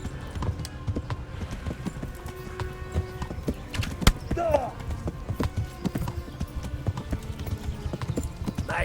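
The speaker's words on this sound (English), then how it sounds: "Seems like I got a pretty good horse here." A galloping horse in the medieval video game Kingdom Come Deliverance, its hooves pounding in a fast, steady clip-clop rhythm, with a brief whinny midway and light background sounds.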